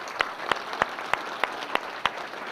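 Light applause at a sports hall of fame enshrinement banquet, a few sharp, evenly spaced claps standing out above softer background clapping from the room.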